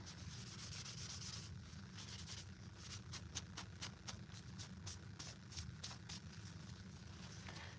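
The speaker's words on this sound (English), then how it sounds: "rub it off with this, and hopefully get the spare dust off of there" A painted prop Mandalorian Westar blaster being rubbed with a cloth to remove dust, heard as soft, close, continuous scrubbing with a run of light rhythmic strokes in the second half.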